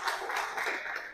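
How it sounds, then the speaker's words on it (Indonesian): Students in a classroom clap their hands for a classmate, a brief, soft patter of overlapping claps lasting about a second. "Tepuk tangan untuk Jocelyn."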